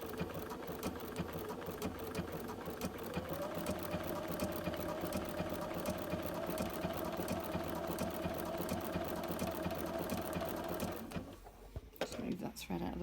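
A Bernina 770QE sewing machine stitches appliqué in a long, steady, rapid whir that drops in pitch and then cuts off near the end, with a person talking quietly over it.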